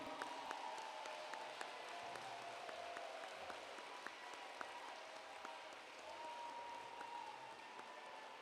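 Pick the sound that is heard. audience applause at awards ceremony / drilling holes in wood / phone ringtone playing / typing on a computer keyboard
audience applause at awards ceremony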